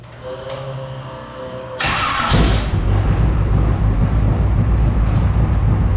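A 1964 Chevy pickup engine cranks briefly, catches and fires up, then settles into a loud, steady, rumbling idle close by.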